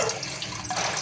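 Water runs and trickles through a homemade crayfish tank filter packed with sponge and gravel, a close, steady splashing flow with small bubbly surges and no voices.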